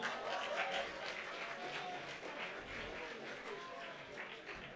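An audience at the close of a science-and-fiction event applauds itself, a continuous, fairly faint patter of clapping from many hands across a room.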